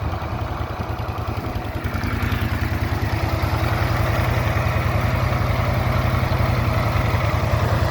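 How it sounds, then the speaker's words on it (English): A steady mechanical whir of a Honda Trail 125 motorcycle radiator cooling fan running alongside a low idling engine pulse, constant and close, with wind noise and no talking. "All right, fan is on."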